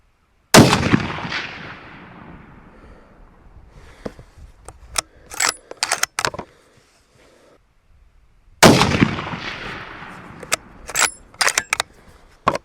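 A CVA Cascade Long Range Hunter rifle in 7mm Rem Mag fires two loud, close shots several seconds apart at a paper target. Each blast rolls away in a long echo, followed by sharp mechanical clicks.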